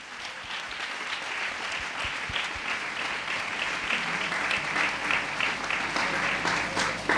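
Church congregation clapping during a Hindi-language worship service, dense continuous applause from many hands held steady throughout with a faint murmur beneath.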